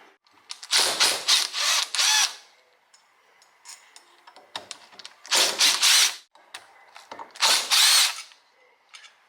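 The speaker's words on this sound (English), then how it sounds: "So let's go ahead and take off these Allen bolts first." A power tool, likely an impact or drill driver, backs out Allen bolts from the front cover of a supercharger on a 1995 Ford Lightning, in three loud whirring bursts with short quiet pauses between them.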